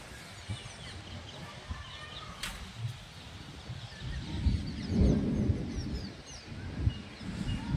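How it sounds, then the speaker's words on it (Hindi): A low, rolling rumble of thunder builds and swells in the distance, with faint bird calls scattered over the steady outdoor background. "देखो बादल कितनी"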